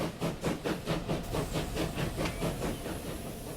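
Steam locomotive in the railway-building game Transport Fever, its rapid rhythmic chuffs and hiss pulsing steadily and loudly with no voices, easing slightly toward the end.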